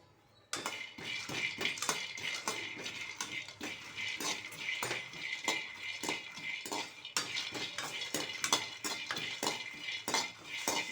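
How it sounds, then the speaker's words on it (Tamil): Groundnuts dry-roasting in a hot pan, stirred without pause: a rapid, continuous rattling and scraping of nuts and spoon against metal, close and fairly loud, with no talking. "இப்போ வேர்க்கடலைனா கை எடுக்காமல் வறுக்கணும்"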